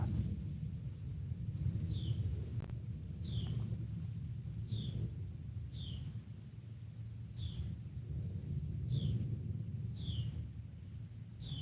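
A low, distant rumble of a passing airplane fills the background in the early morning, while a bird chirps repeatedly at a steady pace above it.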